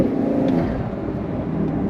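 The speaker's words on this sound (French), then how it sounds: "On entend la dump valve" Porsche 911 992 Carrera S with a turbocharged engine, its dump valve releasing after the throttle lifts, heard close as a steady rumbling engine note with a brief hiss on top.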